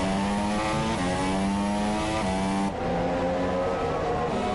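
An F2 race car in a racing video game revs hard on its out lap, a loud continuous engine whine climbing and dropping in pitch as gears change, with no talk over it.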